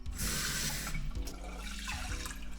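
Water pours steadily into a pot of sushi rice at a one-to-one ratio for inari sushi, a close, continuous rushing splash lasting the whole moment with no talking.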